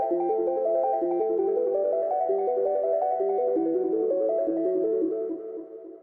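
Synth arpeggio from a 90s jungle-inspired track, running rapid steady notes that shift with a chord progression, moderately loud and alone before fading at the end.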